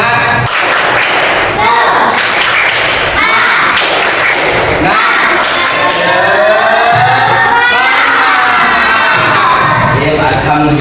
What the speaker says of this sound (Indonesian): kalian saya kasih penyemangat itu dengan tepuk semangat